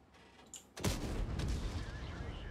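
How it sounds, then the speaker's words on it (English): Enemy tank cannon fire in World of Tanks: a faint distant report, then a sudden heavy boom that rolls into a long rumbling tail, loud and low. "He's shooting at you now."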